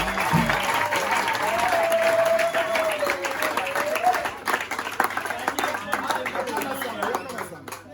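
A congregation at a sermon claps loudly and cheers in praise. Crowd chatter and a sustained vocal cry run through the applause, which fades into looser clapping and voices.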